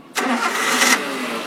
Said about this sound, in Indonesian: sekarang kita nyalakan mesinnya